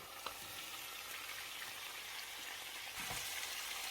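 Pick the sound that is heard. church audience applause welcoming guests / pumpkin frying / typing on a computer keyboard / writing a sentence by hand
pumpkin frying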